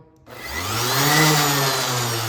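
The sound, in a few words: orbital sander running after brush replacement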